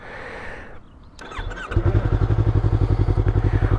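A 2019 Yamaha R3 motorcycle engine starts with a clatter and settles into a steady, low, throbbing idle, close by and loud, with rapid regular pulses.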